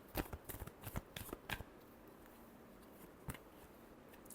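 Tarot cards being shuffled, a quick run of crisp riffling flutters in the first second and a half, then a pause before one last soft flick, close and fairly quiet in a still room.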